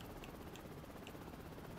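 A helicopter in the video game Prototype Remastered makes a faint, steady rotor thrum with a few light clicks over it.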